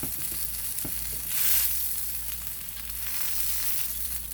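Chicken quesadilla on homemade tortillas frying in a pan, a steady close sizzle with a brief swell as it is flipped and a few soft knocks, no talking.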